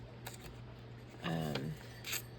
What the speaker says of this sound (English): can do a good trim there. And a good trim up the side here.